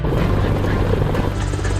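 Military helicopter of an Army special operations aviation unit, heard close and loud as a steady low rotor throb with dense engine roar, continuous throughout with some talk faintly beneath it.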